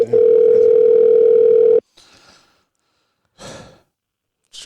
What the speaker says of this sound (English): Hung up. Let me call her back.